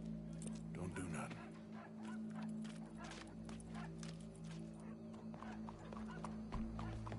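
Horse hooves clip-clop in a steady rhythm close by, with a constant low hum and some voices in the background.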